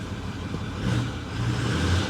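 A big Ford F350 pickup engine runs steadily nearby, a low rumbling idle with small surges and slight unevenness, with no voices over it.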